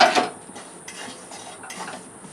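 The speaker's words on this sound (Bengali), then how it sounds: "আর সুজিটাকে একটু হালকা করে একটু নাড়াচাড়া করে নেব" Semolina dry-roasting in a pan is stirred with a utensil, opening with a bright metallic scrape, then soft, steady scraping strokes close by, with no talk.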